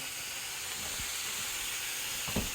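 Brown sugar and bourbon pork chops sizzle steadily in a hot pan, a continuous frying hiss with two soft thuds as pieces are flipped, no voices.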